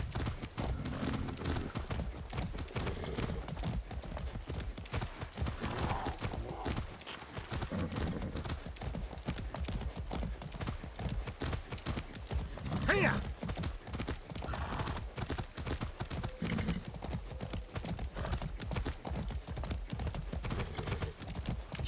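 Steady rhythmic clip-clop of horse hooves during riding in Far Cry 6, continuous and close, with an occasional whinny and someone talking over it.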